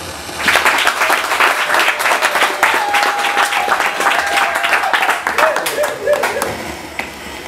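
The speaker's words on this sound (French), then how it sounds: "je voudrais, avec votre permission, que vous applaudissiez pour nous-mêmes" Meeting attendees give a lively round of applause, a mix of dense and individually distinct claps, with brief voices and a faint tonal ring partway through.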